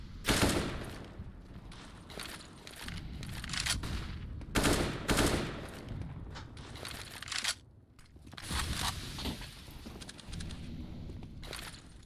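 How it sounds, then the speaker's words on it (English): Dense bursts of gunfire from a Counter-Strike match, with Deagle and SSG weapons in play, cracking in rapid clusters across the whole stretch with only brief lulls between volleys. "Shots coming on out. Good shots at that."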